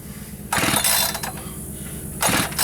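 An Echo 590 chainsaw's starter cord is yanked twice, each pull giving a loud ratcheting whir as the engine turns over without catching, close up with no talking.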